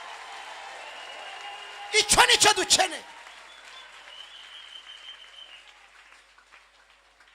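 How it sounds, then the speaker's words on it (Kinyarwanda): A church congregation breaks into a brief, loud round of clapping lasting about a second. A preacher's voice is heard before and after it. "Ababyemeye bakomera Imana amashyi"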